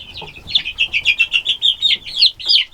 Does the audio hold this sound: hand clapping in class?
no